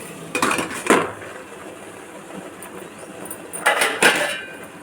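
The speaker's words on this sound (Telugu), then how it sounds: "మూత పెట్టుకోవాలి." A metal lid is set on a pot of steaming idlis with two sharp clattering bursts, one early and one later, close and moderately loud against quiet kitchen background.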